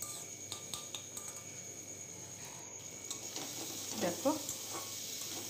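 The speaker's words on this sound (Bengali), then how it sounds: "মশলার সাথে আলুগুলো বেশ ভালো করে আমি ভেজে নিয়েছি" Potatoes fry with spices in a pan as a spoon stirs and scrapes them, with clinks and taps over a steady low sizzle. A brief spoken word comes through near the end.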